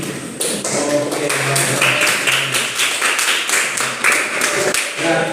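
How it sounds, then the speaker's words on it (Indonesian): Classroom applause from a group of students, a steady run of close, sharp hand claps lasting several seconds with no talk over it. "Tepuk tangan sekali lagi dulu."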